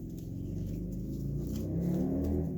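A loud car passes outside. Its engine gives a steady, deep rumble with a faint whir that holds throughout and swells slightly toward the end, with no voices.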